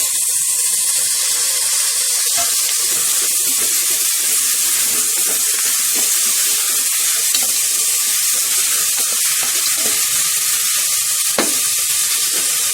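Steady, loud sizzle of masala frying in a pan with ginger garlic paste, mint, coriander and tomato, a continuous hiss with faint stirring scrapes and no talking.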